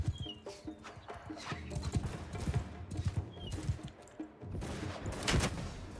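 Horse hooves clopping in the samurai video game Shokuho, irregular thuds mixed with battle noise and gunfire-like bursts, moderately loud, with no talk.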